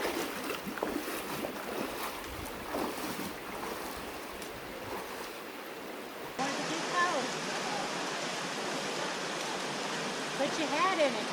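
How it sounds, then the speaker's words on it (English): Cold water rushes steadily through a narrow canyon, a continuous broadband roar that shifts partway through to a louder, closer wash of splashing flow. "there's that cold water rushing through"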